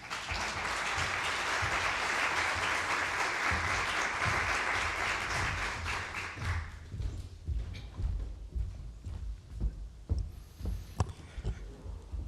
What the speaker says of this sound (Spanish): Recibámosle también con un aplauso